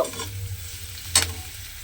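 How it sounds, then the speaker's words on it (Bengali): Onion and garlic frying in a pan for an eggplant-and-egg dish, heard as a steady low sizzle with a few stirring scrapes and one brief louder scrape near the middle. "দিয়ে এবার পেঁয়াজ আর রসুনটা খুব ভালোভাবে একটু ভেজে নেব।"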